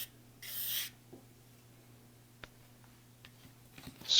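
Dried-out thermal paste is scraped off a graphics card, an EVGA GTX 760 SC with an ACX cooler, in a few quiet, close rubbing and scratching strokes with brief pauses between them in a near-silent room.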